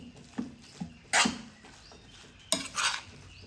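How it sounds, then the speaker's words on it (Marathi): A utensil scrapes and knocks in a covered pan of dried shrimp (jawla) curry, giving a few sharp metallic clanks and stirring scrapes spaced irregularly, fairly close and quiet. "जवळा आहे तो जरा ढवळून घेणार आहे"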